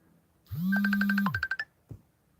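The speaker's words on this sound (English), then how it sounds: "My phone's ringing, and it's not popping up on my screen" A phone's Messenger app ringing with a single bright electronic chime burst, loud and close, followed by a short click, with no talk over it.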